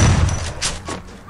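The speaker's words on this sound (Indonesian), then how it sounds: "Kita main pistol ternyata di sini guys ya." A few muffled pistol shots in quick succession from a video game, with a low rumbling boom underneath and some background noise.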